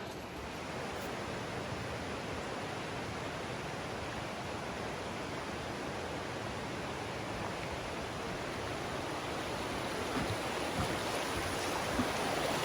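Constant, full rush of a creek swollen with snowmelt at Upper Marriotts Falls, Mt Field, loud and unbroken throughout with no voices.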